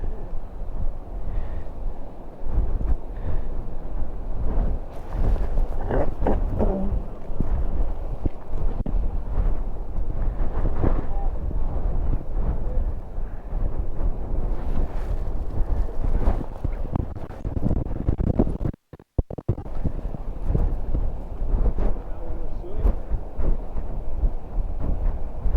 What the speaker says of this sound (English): That's blowy out there.